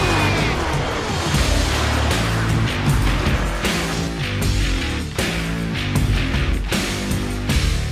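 A 2019 Chevrolet Corvette ZR1 with its supercharged 6.2-liter LT5 V8 roars loudly and continuously, with surging revs and dense mechanical noise under what sounds like a music bed.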